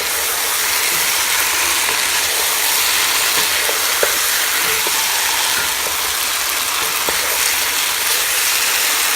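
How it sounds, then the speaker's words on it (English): Food fries steadily in a pan, giving a loud, continuous hiss and crackle, with occasional scraping clicks as it is stirred and mixed, heard close up with no talking. "Look at it sizzling away, mixing it nicely."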